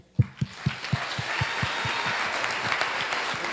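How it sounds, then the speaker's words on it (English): A church congregation at a cowboy church's Youth Sunday service breaks into applause: a few loud, distinct opening claps in a steady rhythm quickly swell into a dense, sustained round of clapping from the whole room. "Can we give a round of applause to Tucker?"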